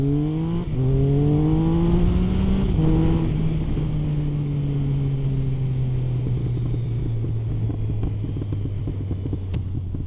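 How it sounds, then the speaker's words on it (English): A Triumph Speed Triple 1050 three-cylinder motorcycle engine revs up twice with rising growls, then settles into a throaty idle that slowly drops in pitch, close by. "The triple engine always sounds the best if you ask me."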